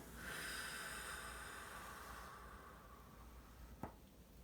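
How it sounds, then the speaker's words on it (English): A slow, deep exhalation drawn out as a steady airy hiss over several seconds, fading gradually, with a faint soft click near the end; no talking. "Take a deep breath in and breathe out."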